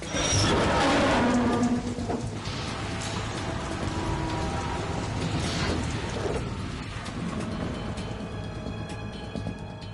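Steady rain in the video game Metal Gear Solid 2, a dense continuous hiss of downpour with a few heavier splashes early on, mixed with faint mechanical game sounds.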